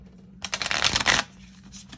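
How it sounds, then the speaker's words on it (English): A deck of cardstock playing cards riffle-shuffled close up, one quick fluttering burst of about a second that rises and settles into a soft rustle, with no voices. "this cardstock shuffle's better than the Fantastic Beasts"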